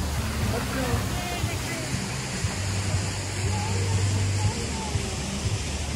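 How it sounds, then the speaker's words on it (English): Waterfall at a zoo, a steady broadband rush heard from a moderate distance, with faint low rumble and occasional bird chirps in the background. "Look at a waterfall."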